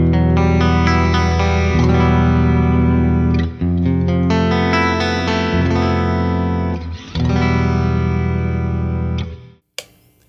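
Ibanez JEM7V electric guitar played through its single coil pickup, a loud, sustained run of chords and notes with effects and chorus-like shimmer, breaking briefly twice before cutting off near the end.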